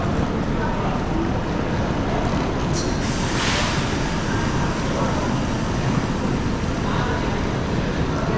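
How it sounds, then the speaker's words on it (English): Loud, steady rumble of a new train at a railway station on the Turin to Bologna route, with a continuous roar and a brief high squeal, like a train passing or idling at a platform. "there's a brand new train here"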